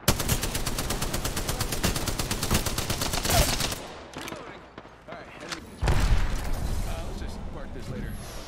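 Rapid automatic gunfire rattles in Apex Legends as a player comes under fire, a fast steady stream of shots that breaks off, then resumes close and loud, with a voice talking over it.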